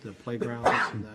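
A single abrupt sneeze in a committee meeting room, partly masked by a person talking at the same moment.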